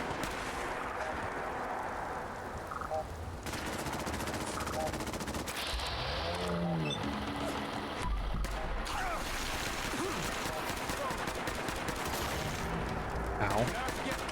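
Gunfire in the Fallout 4 video game, with rapid shots and battle noise running steadily for most of the clip, mixed with other game effects and a voice speaking over the action.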